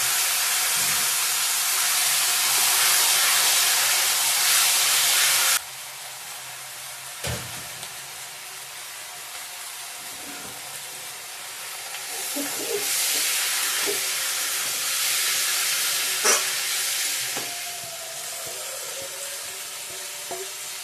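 Chicken pieces sizzle and hiss in a hot pan with ginger and five-spice seasoning, a steady loud fry that drops suddenly quieter partway, with occasional clinks and stirring scrapes.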